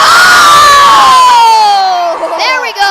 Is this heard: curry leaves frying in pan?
no